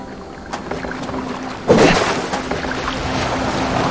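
Boat steered on water in Assassin's Creed Valhalla, oars or hull splashing through the water with a sudden louder surge midway, then continuous wash of waves and wind, close and moderately loud.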